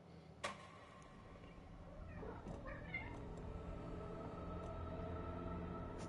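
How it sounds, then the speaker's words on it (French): A cat meows faintly in the game Alan Wake 2, a few brief wavering calls in the middle over a quiet, humming background. "même le chat il vient"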